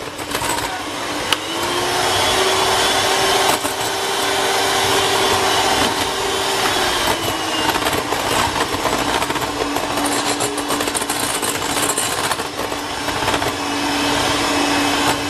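Lemon cake glaze being mixed, a steady close whirring motor drone that holds for the full stretch with a slight shift in pitch midway and no talking.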